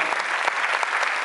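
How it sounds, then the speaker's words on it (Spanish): Dense audience applause at a cultural festival award ceremony, a steady loud wash of many hands clapping close by, with no talking over it. "Un aplauso para Encarna."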